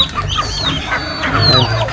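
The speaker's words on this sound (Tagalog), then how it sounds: "ito yung mga pabo natin" Busy turkey calls from several birds at once, warbling and gobbling sounds overlapping continuously at moderate volume with farmyard bustle behind.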